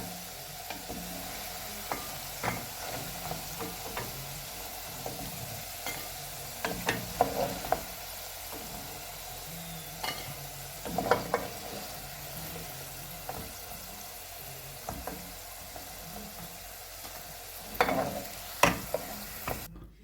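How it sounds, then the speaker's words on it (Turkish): Potatoes frying in a pan for Turkish shepherd's kavurma: a steady low sizzle of hot oil broken by intermittent stirring clatters and scrapes, close and unaccompanied by talk. "Patates, patateslerimiz iyi iyice kızarsın."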